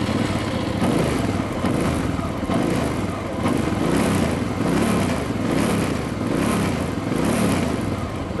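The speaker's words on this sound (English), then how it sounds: "Let's have a listen at this engine." A Hyosung GT650R Comet motorcycle's 674cc four-stroke V-twin engine idles steadily and loudly up close, a continuous even running note with gentle swells and no talking.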